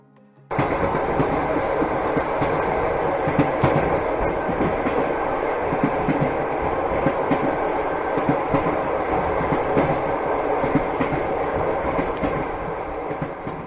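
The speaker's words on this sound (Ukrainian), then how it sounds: "Поїзд" A train rumbles past close by, a loud continuous roar with rhythmic clickety-clack of wheels on rails throughout.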